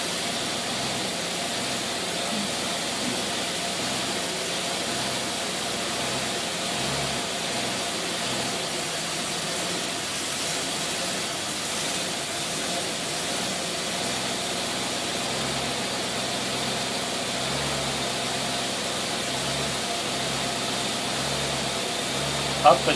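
A small Predator engine runs steadily while its carburetor is being tuned, a continuous close, loud drone with a faint pulsing rhythm, and a voice speaks briefly over it.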